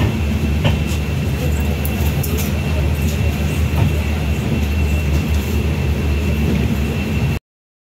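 A train rumbles steadily and loudly through Tirunelveli railway station, with a continuous low roar of wheels on rails and occasional faint clacks and squeals over the top.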